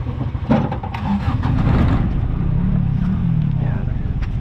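An owner-type jeep at a townhouse blessing cranks and catches, then settles into a steady, loud, rumbling idle close by.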